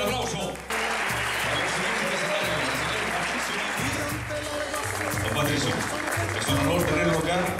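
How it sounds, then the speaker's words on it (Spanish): Loud sustained applause from a gala audience at the Viña press awards, a thick roar of clapping with background music and voices mixed in, continuing steadily throughout. "¡Fuerte el aplauso!"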